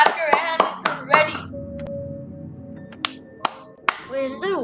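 A few sharp, quick claps ring out near the start of Minecraft Dungeons gameplay, followed by scattered single claps; a voice speaks briefly between them.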